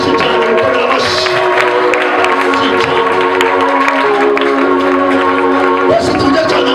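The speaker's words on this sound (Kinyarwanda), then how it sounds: "mukomera amashyi cyane mukomera amashyi" A church congregation claps and cheers, loud and steady throughout, with crowd noise and a voice mixed into the applause.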